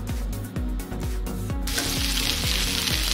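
Masala sizzles loudly in hot oil with chili added, a steady bright frying hiss over a regular series of dull low thumps from stirring in the pan.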